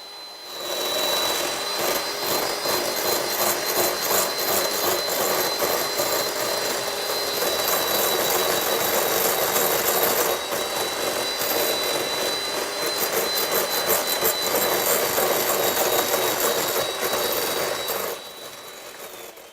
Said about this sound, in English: Into the bowl it goes, and then give it a nice whisk